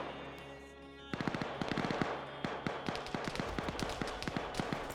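In an online shooter match, a rocket blast is followed by dense bursts of rapid gunfire: sharp crackling shots repeating in quick uneven volleys for several seconds after a quieter opening, with no voices.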